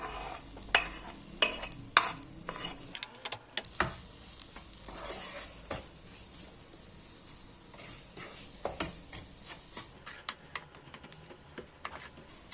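Corn sautéing with onion and garlic in a pot for a Turkish soup, soft sizzle under repeated spoon scrapes and light taps, fairly quiet and close.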